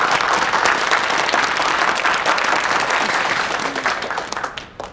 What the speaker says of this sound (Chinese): 掌声鼓励一下，来，快！